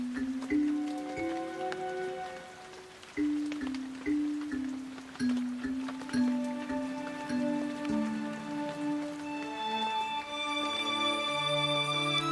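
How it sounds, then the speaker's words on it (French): Steady rain falls and patters on a surface in a storm under heavy clouds, with raindrops ticking over a background of tonal music throughout. "C'est alors que de gros nuages couvrirent le ciel et firent tomber la pluie."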